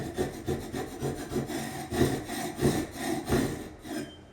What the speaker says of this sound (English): Using a scraper and a chisel, I scraped off as much of the glue and wood particles as I could on the joist.